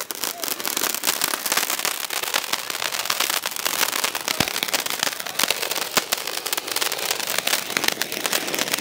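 Deepavali firecrackers burst in a dense, continuous crackling barrage of rapid sharp pops, loud and close, sustained for the whole stretch with faint voices underneath.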